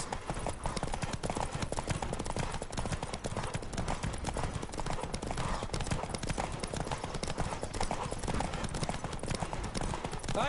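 Horse galloping in The Witcher 3: Wild Hunt video game, rapid rhythmic hoofbeats pounding continuously and close with rushing wind behind them, and a brief whinny.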